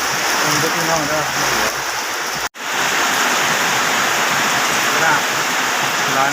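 Heavy rain pouring steadily around a house, a loud dense hiss that fills the whole clip with one brief dropout, while a voice speaks faintly under the downpour.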